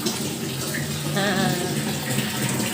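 Water from a solar-powered submersible pump gushes out in a strong, steady rush close by, with faint background talk.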